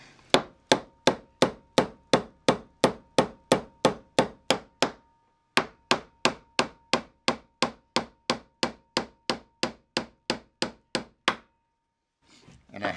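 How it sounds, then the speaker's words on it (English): A hammer drives steel drift pins into a Rockwell Delta 4-post planer in a fast, even run of sharp metallic strikes, about two per second, nearby, with a short pause before the blows resume. "I think the first thing to do is drive these drift pins in"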